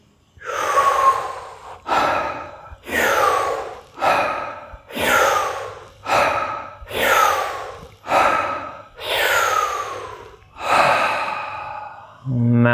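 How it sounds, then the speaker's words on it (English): Kapalbhati yoga breathing, with about nine forceful rapid breath bursts in a steady rhythm, each a loud close rush of air through the nose, then a brief tail at the end. "One last round, Kapal Bhati. This time we'll do 5 preparatory mouth, belly, chest, head breaths."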